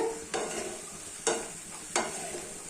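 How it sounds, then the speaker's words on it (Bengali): Masala paneer spice paste being stirred in a pan, with a low sizzle of frying underneath and three distinct scraping strokes of the spoon, close and steady, with no talking. "এবার একটু ভালো করে মিশিয়ে নেবো"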